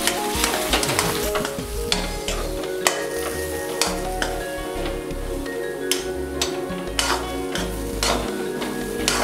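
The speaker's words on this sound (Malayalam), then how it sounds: "ഒഴിച്ചിട്ട് ഇളക്കണം." Semolina upma being stirred in a hot pan right after boiling water is poured in, Kerala style: a steady close sizzle and hiss broken by repeated sharp scraping and clicking strokes of the spoon, loud and continuous, with no talking.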